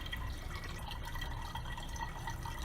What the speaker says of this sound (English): I'm pouring the electrolyte in and I'm watching the gauge